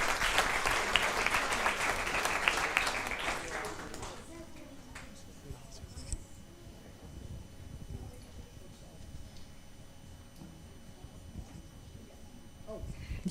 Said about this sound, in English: can we give a round of applause for our two sixth grade presenters tonight?